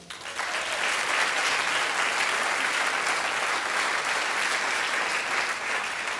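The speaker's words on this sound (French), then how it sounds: "J'aimerais qu'on applaudisse tout de suite tous les artistes qui sont passés ce soir." An audience applauds the evening's performers at a comedy song show, a full, even wave of clapping that starts abruptly and holds steady and fairly loud for several seconds without voices standing out.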